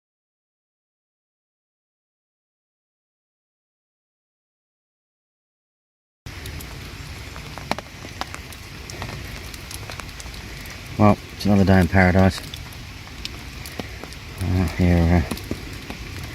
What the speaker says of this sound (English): a wet, rainy day.